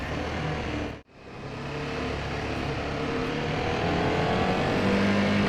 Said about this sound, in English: You just listen to the engine.